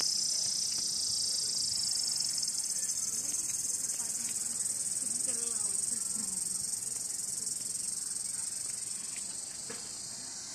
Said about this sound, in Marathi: इथे दिवसा सुद्धा रातकिड्यांचा इतका आवाज येतोय ना.